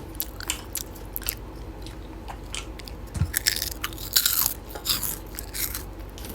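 Mochi ice cream with chewy rice dough and a cream filling, crunching and squishing softly in a series of close bites and chews, with no talking.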